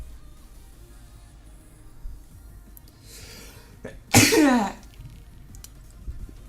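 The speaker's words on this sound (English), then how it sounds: "I want to sneeze." A single loud sneeze bursts out midway after a brief inhale, with quiet room tone before and after and no talk.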